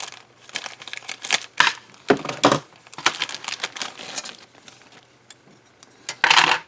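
Plastic parts are cut off the sprue of a Revell 1:24 Aston Martin DB5 model kit: irregular close snips and clicks mixed with crinkling rustles, with several sharper bursts among quieter handling.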